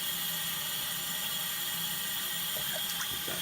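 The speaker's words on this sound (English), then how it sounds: "Okay, so I'm just filling some water" Tap water runs steadily into a coffee maker's reservoir, a continuous close hiss and splash with small bubbling ticks toward the end.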